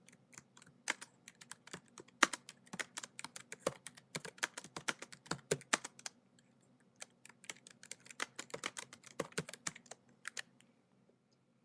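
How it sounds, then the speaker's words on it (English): Typing on a computer keyboard, a quick irregular run of close, light key clicks in bursts with a short pause before the tapping resumes. "I'm going to type in my reminder."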